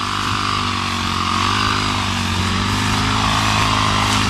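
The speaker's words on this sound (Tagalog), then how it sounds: "Ayan, nagsisimula na si Bayaw na mag grass cutter dun sa kabila." Grass cutter engine running in a rural field, a loud steady buzzing drone with a constant high-pitched motor whine and no break throughout.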